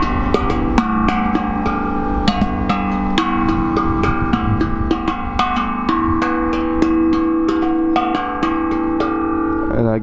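In a Warsaw park, people strike a drum-like public percussion instrument, producing rapid, ringing metallic hits in a lively, steady rhythm that sound close and loud, with overlapping tones that decay between strikes.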